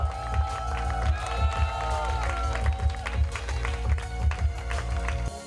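Steady applause from an audience at a fashion show, continuous and fairly loud, with music playing underneath throughout.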